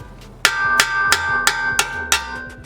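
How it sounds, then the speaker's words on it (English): Six sharp metallic hammer strikes on a wheel stud land at a steady pace, each ringing briefly with a bright clang. "I'm going to be using a hammer."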